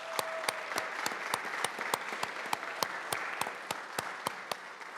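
A small audience at a workplace milestone celebration claps steadily for an absent colleague, a fairly sparse, even pattern of distinct individual claps running on throughout, moderately quiet with no talking over it.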